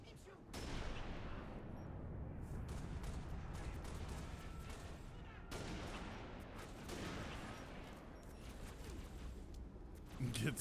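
Three sniper rifle shots in Halo: Reach, each a sharp, loud crack several seconds apart, over continuous battle noise and rumble.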